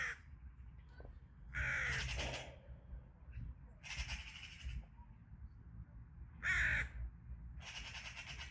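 Crows caw outdoors in several loud bursts, each a cluster of harsh calls, separated by quieter stretches of low background rumble.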